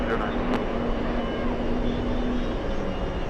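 A JetBlue Embraer E190 jet arrives at JFK airport, heard as a steady, continuous engine roar with a faint tonal hum, moderately distant and unbroken throughout.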